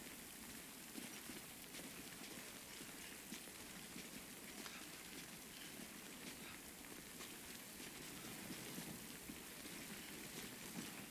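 Steady rain in a video game hisses without a break, a dense even wash of drops with no talk over it.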